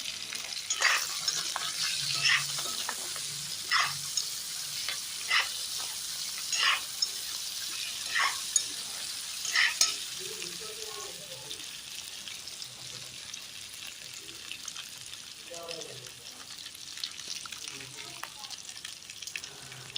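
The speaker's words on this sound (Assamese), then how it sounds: "এতিয়া আলুখিনি ভালকৈ ভাজিম।" Soft sizzling of potatoes frying in a pan with intermittent scraping and stirring clatters, fairly quiet and close, with no talking.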